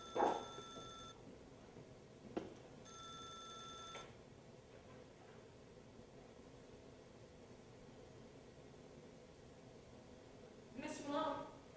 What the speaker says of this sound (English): Mr. Malone, the phone's for you.